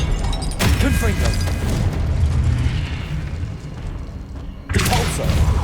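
Confringo spell blasts in Hogwarts Legacy gameplay, two sharp booming explosions with a rumbling decay between them, loud and close.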